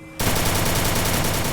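A loud, rapid burst of automatic gunfire from the video game Free Fire hammers out in an evenly spaced, machine-gun rhythm and continues without a pause.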